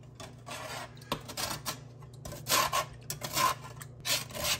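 A utensil scrapes maple syrup caramel off the bottom of a pot while making spiced mulled wine, in repeated rasping strokes of uneven length, close and fairly quiet.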